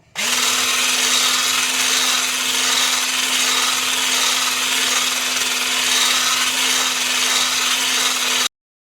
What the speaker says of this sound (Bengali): আমি কিন্তু এবারে চিনি আর দই আর তেল এটা একসঙ্গে আবার একবার বিট করে নেব।